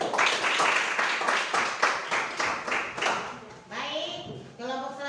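A small group claps in a classroom after a student group's presentation, with a series of distinct, fairly rhythmic claps that fade out as a voice begins speaking.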